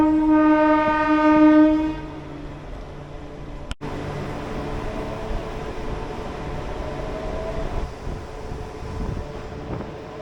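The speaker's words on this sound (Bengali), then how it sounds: "আর তোমাদের বলে রাখি খড়গপুর থেকে আমাদের ট্রেন ছেড়ে দিল" A local train on the Kharagpur–Puri line sounds a long, loud horn, then a sharp clank, then the steady rumble and rattle of the carriages rolling along the track.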